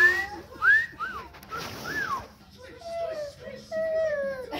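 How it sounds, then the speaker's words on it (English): A person whistles in short rising and falling tones in a family setting around a tent, with children's voices and chatter mixed in between the whistles. "Can you whistle"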